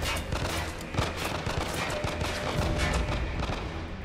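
Sustained rapid gunfire in the video game The Long Dark, with dense overlapping shots rattling continuously for several seconds, loud and close, without speech.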